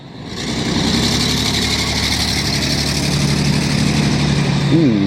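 A Ford Econoline van's V6 engine runs steadily up close on a city street, a constant loud rumble with a brief wavering tone near the end.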